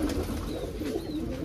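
Border pigeons coo in low, soft, continuous murmurs, several birds overlapping close by with a steady background hum.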